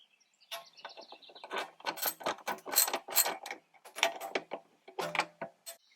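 A ratchet clicks in quick uneven bursts while 10 mm bolts are removed from the stereo trim of a 2019 to 2022 Toyota RAV4, close and crisp, with brief pauses between turns and no talking.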